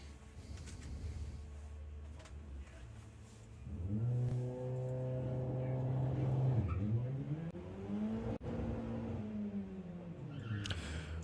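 Audi TT and Volkswagen Passat launch down a drag strip together, engines rising from idle into a loud revving pull with clear gear changes, a dip around one shift and a climb back up, close and steady throughout.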